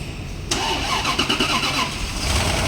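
A Rolls-Royce engine, freshly overhauled, cranks and fires suddenly, then settles into a loud, close, rumbling idle with some uneven revving.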